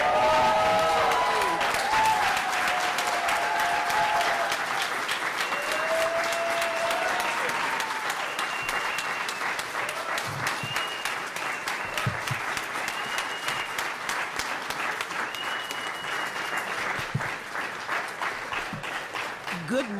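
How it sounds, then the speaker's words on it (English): A large audience stands and applauds Congresswoman Gwen Moore at a Congressional Black Caucus conference session, with steady, dense clapping that holds for about twenty seconds as cheers and voices mix in. "stand up and clap for our Congresswoman Gwen Moore"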